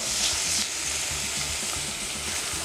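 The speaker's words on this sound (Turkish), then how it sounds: "Böyle hafif bir unla da çeviriyorum" Flour being stirred into vegetables in a hot pan for a creamy cauliflower and Jerusalem artichoke soup, a steady close sizzle with soft scraping stir strokes throughout, no talking.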